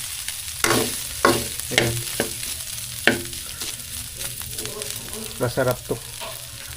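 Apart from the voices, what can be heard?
pork frying in its own rendered fat for dinuguan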